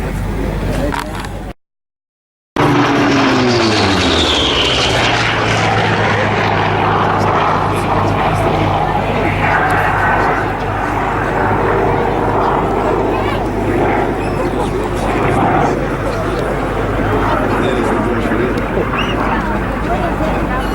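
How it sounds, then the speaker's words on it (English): A Grumman Bearcat piston-engine propeller fighter flying at the Flying Legends 2014 airshow. Its loud engine drone sweeps down in pitch as it passes, then holds a sustained roar, with a PA commentator talking over it and a brief dropout early on. "and now it's the Bearcat."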